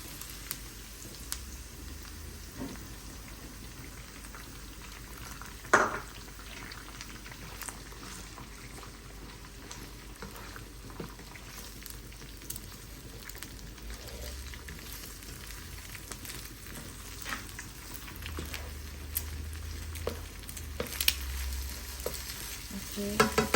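Egg frying in oil in a pan for Thai fried rice, a long, steady close sizzle and crackle with occasional louder pops and stirring scrapes, and no talking.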